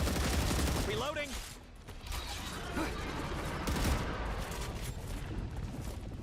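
Shotgun blasts sound in the video game StarRupture, several loud sharp reports over a busy rumble of mechanical game noise, with a brief voice-like tone near the start.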